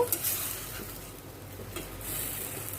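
Prawns sizzle in ghee with ginger and garlic, a soft steady frying hiss under the scrape and clink of a spoon stirring the pan.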